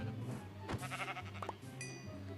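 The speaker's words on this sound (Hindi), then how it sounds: "काली भेड़, भेड़ बोलो बकरी बोलो एक ही है।" Sheep bleating in Minecraft, a short synthetic bleat in the middle followed by another burst, heard alongside game background music with no talking.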